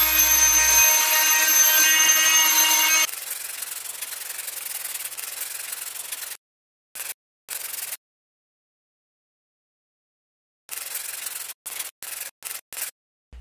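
Plastic is sanded by hand during a cracked steering wheel repair with PlastiFix filler: a steady, close scratching rasp gives way to short, separate sanding strokes with pauses between them, and no one talks.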